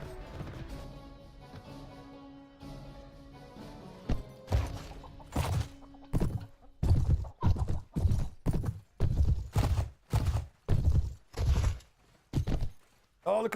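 Horse hooves clip-clop in the Mount & Blade Floris Expanded video game, starting faintly under a voice and then turning into a steady, loud run of evenly spaced heavy thuds that stay close.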